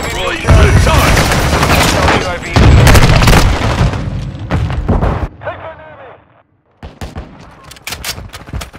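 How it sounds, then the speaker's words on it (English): Stun grenade blasts in a shooter video game burst out amid rapid gunfire and heavy booms, loud and close, with voices shouting over the chaos before a brief silence and further scattered shots. "Stun grenade out!"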